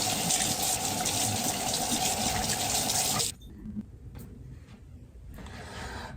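Water running from a tap into a sink while a tarnished item is scrubbed after a vinegar soak, a steady loud splashing that cuts off abruptly midway, followed by faint drips and handling noises.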